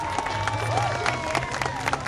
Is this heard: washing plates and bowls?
no